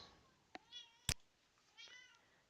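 A cat meows in the game Morrowind, with several short mews spread across the moment, fairly quiet and alone, plus one sharp click partway through.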